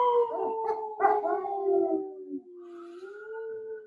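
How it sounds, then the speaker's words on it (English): A small dog howls at sirens in long, wavering tones, one drawn-out howl followed by another rising cry, fairly close and without other sounds around it. "Just a small dog bark at the sirens on the internet."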